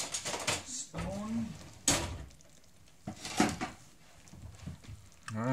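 A small spoon is grabbed from among dishes and cutlery in a home kitchen while crockpot ribs are being made, giving a few short clinks and knocks close by in between bursts of speech.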